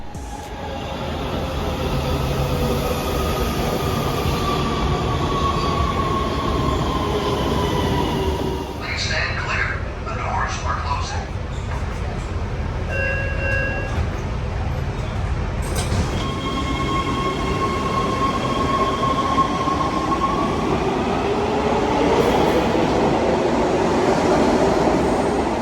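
A Metrolink Antelope Valley Line train running in the Los Angeles area, a loud continuous rumble of wheels on track with drawn-out metallic squeals, rattling passes and tonal whines rising and falling, with voices talking at times.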